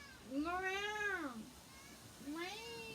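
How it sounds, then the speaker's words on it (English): A domestic cat meows twice, close and clear, each call a long rising-and-falling tone with a short pause between them. "Meow."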